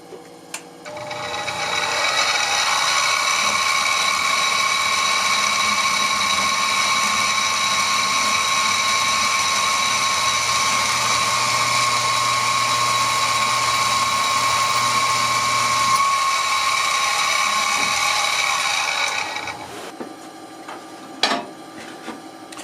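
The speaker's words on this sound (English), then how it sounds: "we're going to go ahead and drill the holes for the handle" A high-pitched drill whines steadily for about seventeen seconds, drilling handle holes in hand-forged camp knife steel, close and loud, with a grinding metallic edge, then stops, followed by a few small clicks.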